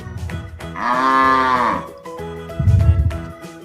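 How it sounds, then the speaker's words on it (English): A buffalo gives a long, loud moo followed by a shorter low call, set against background music and with nobody talking. "A buffalo."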